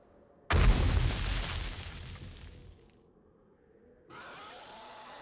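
A thrown bomb in 7 Days to Die detonates with a single sudden, loud blast that rumbles and fades over a couple of seconds before quieter game ambience returns.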